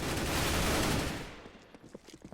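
An AK rifle in a competitive video game match fires a loud, dense burst of automatic gunfire that cuts off after about a second, followed by a few faint scattered shots.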